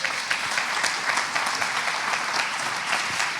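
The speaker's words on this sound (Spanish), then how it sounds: "Fuerte el aplauso" Audience applause at a tech conference keynote, a dense, sustained wash of many hands clapping at an even level from start to finish, no talking over it.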